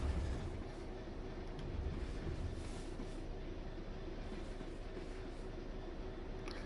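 A freight train in Train Sim World 5 rumbles steadily over points behind the listener, a low continuous rolling drone with faint wheel clatter, moderately distant.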